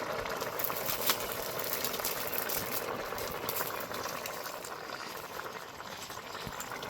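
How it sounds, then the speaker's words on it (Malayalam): A milk-based kachar curry simmers at a steady boil, giving a continuous soft bubbling hiss that stays even and close for several seconds with no talking. "കാച്ചാറ് തിളച്ചോണ്ടിരിക്കുകയാണ്"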